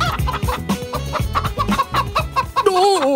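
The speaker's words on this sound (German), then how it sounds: "Das sind Hühner." Chickens cluck in a quick, irregular run of short calls, close and fairly loud, ending in a drawn-out, wavering squawk in an animated cartoon scene.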